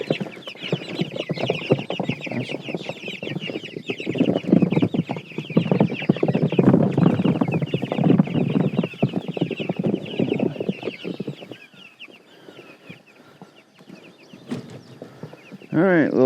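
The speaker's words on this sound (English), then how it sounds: "All right, little chickens." Small flock of chickens clucking steadily and busily close by on a small-scale farm, dense overlapping calls that thin out and grow quieter toward the end.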